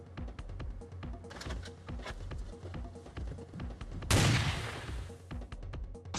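Rapid bursts of gunfire crack through a chopped, glitchy YouTube Poop edit, several shots repeating in quick succession and ending in a loud, heavy blast near the end.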